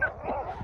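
Dogs give a short yip or bark in a desert during an off-road sand drive, with engine-like rumble and background noise underneath, very brief.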